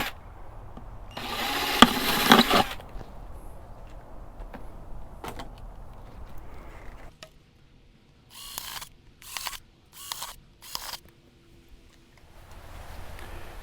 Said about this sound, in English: once I get done with drilling holes